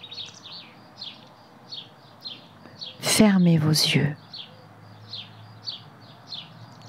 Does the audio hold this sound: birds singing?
yes